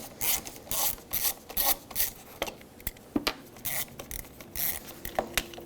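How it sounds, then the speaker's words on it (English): A Phillips screwdriver unthreads the screws on a 1995-2004 Toyota Tacoma license plate light lens, giving close, faint ratcheting scrapes and squeaks in short uneven strokes. "Stick it in here, unthread both screws that hold the license plate lens assembly on."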